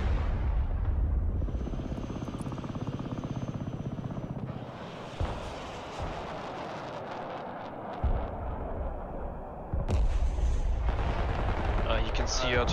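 Explosions hit a supply dump in the Broken Arrow military strategy video game, heard as continuous loud rumbling booms and artillery-like blasts alongside helicopter and aircraft drone, with a sharp surge near the end.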